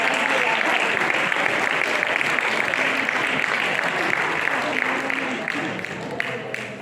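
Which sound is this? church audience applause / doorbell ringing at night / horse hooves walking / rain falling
church audience applause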